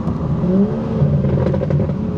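A BMW F3X 335/435 turbocharged engine revs through a BimmerWorld race exhaust, a loud, close, rising drone that sweeps up and holds, with a gravelly, open rasp.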